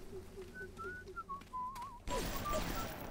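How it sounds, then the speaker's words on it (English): Someone whistles a wavering tune in the video game BioShock, faint and distant over low ambience, before a sudden burst of louder broadband noise cuts in. "Who is whistling?"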